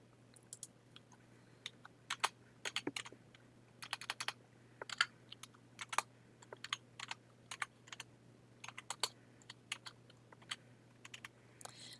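Computer keyboard typing in bursts of quick clicks across the whole stretch, fairly faint and close, over a steady low hum with no talking.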